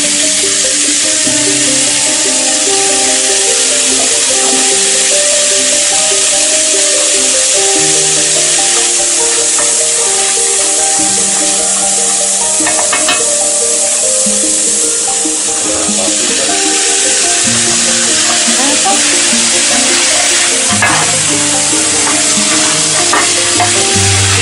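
Sliced pickled cucumber frying in oil for a soljanka, a loud, steady sizzle and hiss that runs the whole time, with scraping from a utensil stirring the pan now and then.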